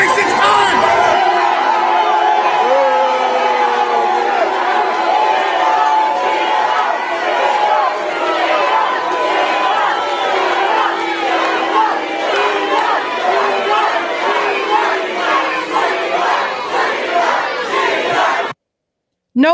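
A large crowd at a political rally cheers and chants loudly and without a break for about eighteen seconds, with many overlapping voices, before it cuts out abruptly near the end.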